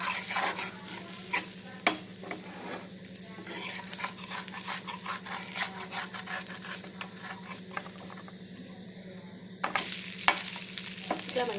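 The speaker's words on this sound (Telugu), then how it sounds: "ఇప్పుడు మూత తీసి ఒకసారి దోశ తిరిగేద్దామండి" Lemon pullattu dosa sizzling and frying on a pan after being flipped, a steady close crackle with scraping and stirring clicks over a low hum, briefly quieter before the sizzle swells again near the end.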